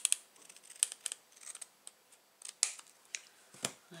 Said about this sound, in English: I'm just going to trim that off.